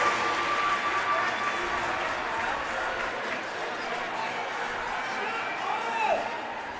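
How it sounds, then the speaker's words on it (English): A hockey crowd at a Minnesota boys high school game roars and cheers continuously after a goalie's side-to-side save, a dense, sustained wash of voices with an announcer talking over it. "The chant for number 29 comes out as he goes post to post, and Hansen just looks to the sky"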